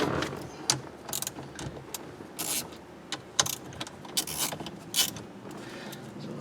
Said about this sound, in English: We're gonna take the two bolts out of this, see if we can get the switch back.